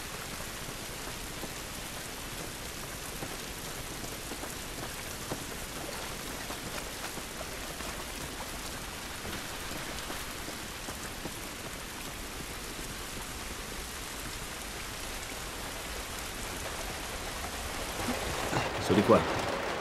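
Steady rain from The Last of Us pours continuously at a moderate level, a dense hiss of drops on surfaces, with a brief louder disturbance near the end.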